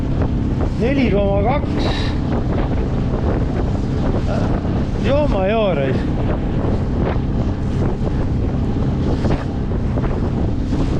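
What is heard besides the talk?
small motorboat engine running at sea in wind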